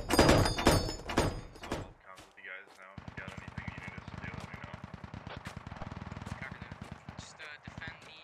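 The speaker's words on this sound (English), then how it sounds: "I'm gonna keep firing" Gunfire in the military shooter Squad, loud close automatic bursts with rapid evenly spaced shots, dense rattling rounds followed by a long steady stream of fire, with heavier thumping impacts mixed in.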